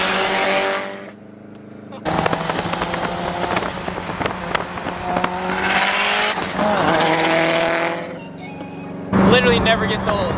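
A turbocharged GR86 spins out, its engine revving hard with long, loud tire squeal and skidding that rise and cut out in bursts over about ten seconds.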